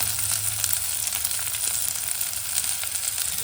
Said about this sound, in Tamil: இந்த எண்ணெயிலே அது நல்லா பொரிஞ்சிடும்